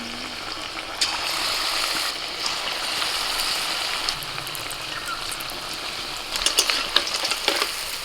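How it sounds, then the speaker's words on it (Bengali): Battered bhetki fish pieces frying in hot white oil in a kadai: a loud, dense, continuous sizzle up close, with sharper crackling bursts near the end and no voices. "তেল গরম হয়ে গেছে এবার আমি একটা একটা মাছের পিস নিয়ে তেলের মধ্যে ছেড়ে দিচ্ছি"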